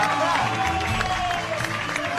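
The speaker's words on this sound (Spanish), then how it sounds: "lo recibimos con un fuerte aplauso como a todos" A studio audience on a Mexican talk show applauds to welcome political candidate Roberto Zapata Barbosa, a dense and steady wash of clapping and crowd noise with voices and tonal sounds layered over it.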